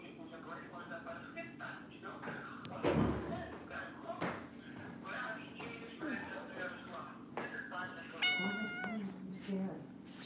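A house cat meows close to a phone amid a live discussion, with a few distinct cries near the end over steady background talk and a thump early on.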